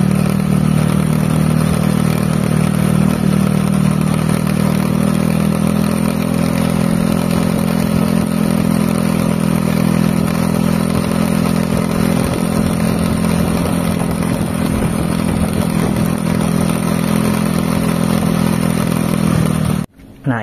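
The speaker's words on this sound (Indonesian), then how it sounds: "bearing bak CVT ketika rusak ya timbul suara ya ketika motor berjalan" A Honda Beat carburetor motorcycle engine with a worn CVT bearing runs steadily with a low mechanical drone and faint rattling clatter throughout, cutting off abruptly at the end.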